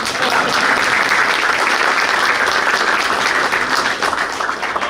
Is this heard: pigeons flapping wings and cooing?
no